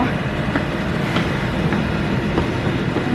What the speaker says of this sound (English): There's a train departing right now there behind me